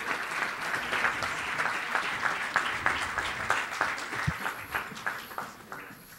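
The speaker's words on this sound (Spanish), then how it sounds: "Demos un fuerte aplauso al maestro Francisco Álvarez Córdoba" An audience at a government working-panel session applauds an official, a moderate room-filling round of clapping with a pulsing rhythm that gradually softens into scattered claps toward the end.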